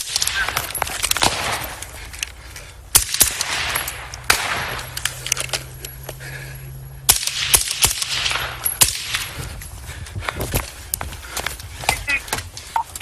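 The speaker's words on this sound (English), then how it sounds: "shots fired, shots fired" Police rifles and a shooter exchange gunfire during an armed confrontation, with several sharp, loud shots spread across the span amid shouting voices and movement.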